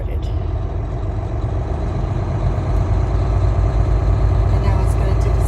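A parked Volvo semi truck running a stationary DPF regeneration drones loudly at idle, a constant deep engine rumble with a steady hum that holds unchanged throughout.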